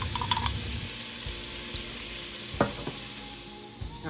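Garlic frying in melted butter in a pot for a creamy lemon pasta gives a steady, soft sizzle with a few brief clinks of utensil stirring early on and a short scrape near the end, no talking.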